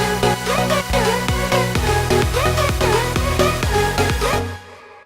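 An electronic track with a steady, punchy kick drum thumping under layered synth chords and a melodic lead line, loud and continuous before ending abruptly near the close.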